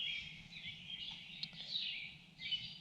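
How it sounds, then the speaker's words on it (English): Birds chirp and sing together at dawn in a bamboo forest, a continuous high-pitched chorus over a low steady background with no voices. "Now you can really hear the birds are really finally waking up."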